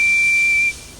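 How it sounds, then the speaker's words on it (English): Percy, a small steam engine from Thomas & Friends, gives one short, high steady whistle blast that stops cleanly, with no voices. "He whistled hello to Harry and Bert."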